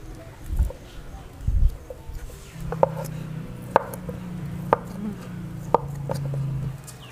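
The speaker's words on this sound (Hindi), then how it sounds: "आलू जो है वो काट लिए हैं" A knife cutting through boiled potatoes on a board, a few soft, evenly spaced thuds about one per second, close by, with a steady low hum underneath.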